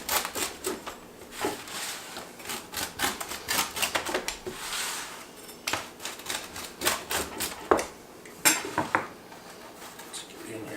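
Smoked bacon mac and cheese pizza from a pellet grill pizza oven being cut, giving a run of close, irregular crisp crunches and scrapes as a cutter works through the crust, with no talking.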